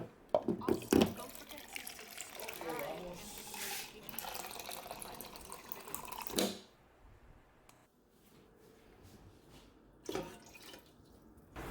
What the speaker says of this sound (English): So after we get those 7 cups of water into the machine